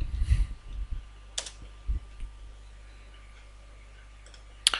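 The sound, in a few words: typing on a computer keyboard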